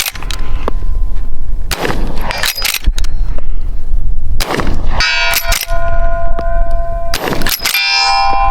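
Loud, close shots from a Winchester 1873 saddle ring carbine made by Miroku, each sharp crack followed by the metallic clatter and ringing of the lever action being worked.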